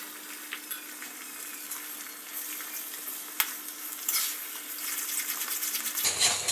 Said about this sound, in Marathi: आणि तेल व्यवस्थित गरम झालं की आपण जे अंड फेटून घेतलं होतं ते आपण हे अशा पद्धतीने सर्व टाकणार आहोत